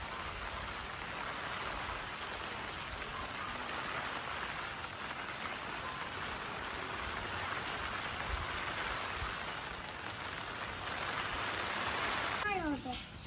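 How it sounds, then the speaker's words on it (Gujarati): Steady rain pours down on surfaces, a dense continuous hiss that holds at the same level throughout, with faint voices and a brief bird-like chirp near the end. "દેખો ગાઈસ વરસાદ સ્ટાર્ટ ચાલુ જ છે નહીં"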